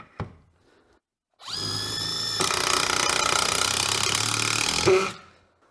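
Dewalt DCF891 impact wrench in highest-torque mode with a fresh battery driving a lag screw: a sharp click, then a whirring motor run that breaks into loud rapid hammering impacts for several seconds before stopping.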